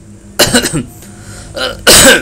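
Nervous coughing from a person, two to three bursts of rough coughs and throat-clearing spaced over a couple of seconds, close and fairly loud, with no speech.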